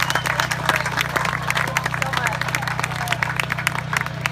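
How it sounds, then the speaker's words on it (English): Audience applause at a Prostate Zero event, dense, sustained clapping from a room full of people with scattered voices, backed by a steady low hum. "Let's give Rick another big round of applause."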